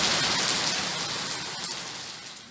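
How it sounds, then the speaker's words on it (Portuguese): Rain falls in a dense, steady hiss, close and continuous, fading slightly toward the end with no voices. "A chuva."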